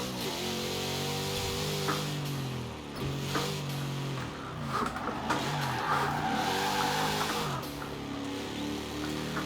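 A fully upgraded racing car engine in a video game roars and revs up and down through gear changes, with brief tire squeals, loud and close, no talking.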